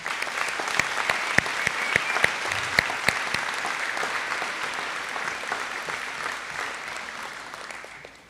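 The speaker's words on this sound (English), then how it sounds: "So please give her a big round of applause" An audience at a high school final assembly gives a long, close round of applause with sharp individual claps in a dense wash that slowly fades out at the end.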